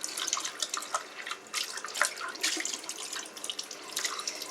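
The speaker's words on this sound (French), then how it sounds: "Donc déjà, je jette cette eau." Used rinse water poured out into a sink after rinsing makeup brushes, a close, steady splashing trickle with small drips, no talk.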